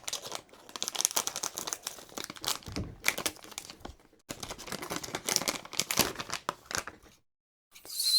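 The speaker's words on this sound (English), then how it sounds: "Let me open the plastic bag." Someone opens a plastic bag wrapped around a docking station for an M.2 NVMe SATA duplicator, making bursts of close crinkling and rustling with a few brief pauses and no talking.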